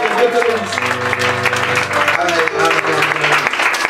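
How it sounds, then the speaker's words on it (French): A church congregation applauds an evangelist loudly and steadily throughout, the clapping mixed with sustained keyboard or organ chords playing underneath. "l'évangéliste Christian, on l'acclame très très fort"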